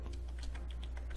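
Rapid keystrokes on a computer keyboard while entering console commands for Hearts of Iron IV, a quick irregular run of close, light clicks with a low steady hum underneath.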